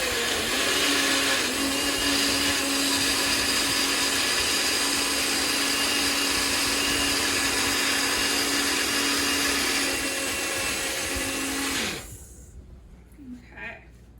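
A blender whirs loudly and steadily while blending scooped watermelon, a constant close buzzing motor that runs for about twelve seconds before cutting off abruptly, leaving quiet room sound.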